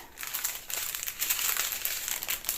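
Small packets of diamond painting drills are folded up by hand, producing close, busy plastic crinkling and crumpling in short bursts with no talking.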